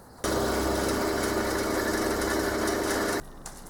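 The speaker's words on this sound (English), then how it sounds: "And now to step up the drill sizes to 10." A drill bores a hole for a leadscrew mount while being stepped up to a 10 size bit; the motor runs as one steady, even whine for about three seconds and then cuts off abruptly.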